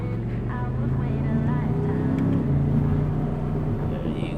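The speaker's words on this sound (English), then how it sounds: "Oh, I love the sound of this car. You can really hear the engine in the back." An Audi R8's rear-mounted engine drones steadily throughout, a deep rumbling roar that holds loud and close from start to finish.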